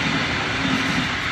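A train rumbles past at close range after a coolant-flush problem on a car engine is discussed, giving a steady, loud broadband roar with a low rolling undertone that holds even for the whole stretch, no voices over it.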